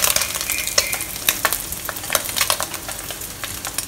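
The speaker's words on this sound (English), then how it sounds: "when you have fried the egg tofu to be this color," Egg tofu frying in hot oil, with a steady loud sizzle broken by sharp crackles and utensil clinks, close up, with no voices.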